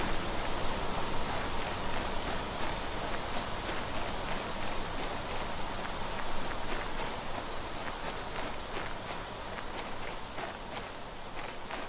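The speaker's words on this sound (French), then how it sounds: "on a eu notre première pluie" Steady rain in the survival video game Planet Crafter hisses continuously for about twelve seconds, a dense, even wash of falling drops with faint scattered patters, no voices.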